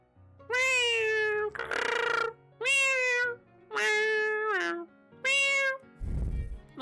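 A person imitates a cat with six drawn-out meows in a row, loud and close, each a rising-then-falling whine separated by short pauses, ending with a breathy puff.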